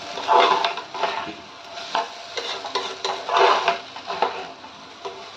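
Rice tossed with turmeric in garlic-infused oil for khichdi, a spoon scraping and stirring through the grains in repeated close strokes over a soft, steady sizzle.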